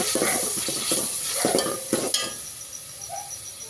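Tomatoes and onions fry and hiss in a pan for Kolhapuri chicken rassa, with a steady sizzle broken by rhythmic scraping stirs of a spoon against the pan. The sound is close, with no talking.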